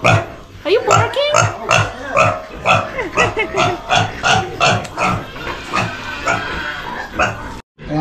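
A pig grunts and oinks repeatedly up close in short rhythmic bursts in a Balinese village, while people talk over the snorting.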